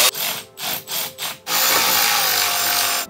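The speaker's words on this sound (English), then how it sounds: "I have my Milwaukee electric ratchet" Milwaukee electric ratchet with a quarter-inch socket spins in four short close bursts, then runs in one long steady whir for about a second and a half.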